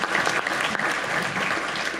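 Steady applause from an audience at a public forum on northern waterfront economic development, following the mayor's speech; dense, continuous clapping fills the room at an even level throughout.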